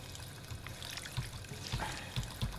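Water from a drinking fountain in Fallout 4 splashes and trickles in a quiet, uneven stream, with soft gurgles and small splashes building toward the end, close but faint, with no talking.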